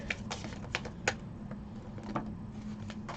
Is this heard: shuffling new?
yes